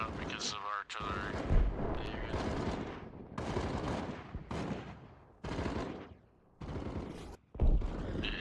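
Artillery and gunfire in a military video game battle at a military base, with heavy booms and bursts of shots repeating close by, interrupted by short gaps, while people talk over the radio.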